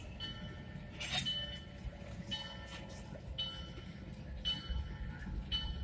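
Former Canadian National locomotive hauling a tanker train, a faint distant rumble of rolling cars with brief high squeals and tonal horn-like notes rising above the low background.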